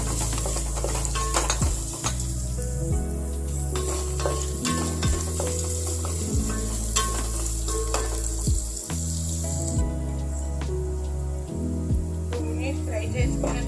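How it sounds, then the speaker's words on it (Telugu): Onions frying in a pan for moong dal khichdi after green chillies go in, a steady sizzle under near-constant talk with a rhythmic, repeated low thumping throughout. "ఇందులోనే ఆనియన్స్ వేసుకుందాం. ఒక 2 మినిట్స్ ఫ్రై చేసుకోవాలి."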